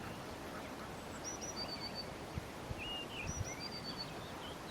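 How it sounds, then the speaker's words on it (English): Birds calling on a farm in the morning, with several short whistled chirps scattered over a steady outdoor background, moderately distant, with a few soft thumps and no talk. "The birds are whistling."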